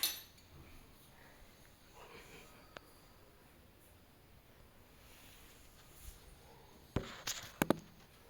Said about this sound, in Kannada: ಮೊದಲಿಗೆ ಮಿಕ್ಸಿ ಜಾರ್ ತಗೊತಾ ಇದ್ದೀನಿ.